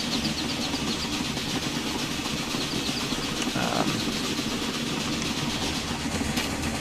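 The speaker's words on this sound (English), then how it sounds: "It's quite a short train considering we're going to Washington DC." A short passenger train heads toward Washington DC in the railway simulation game Railway Empire, giving a continuous loud rolling rumble with steady clickety-clack and engine drone, unbroken throughout with no speech.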